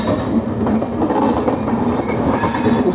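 The Mumbai Ahmedabad Double Decker Express rolls along at speed, a loud, dense rumble with rhythmic wheel clatter and hiss heard from close by inside the train.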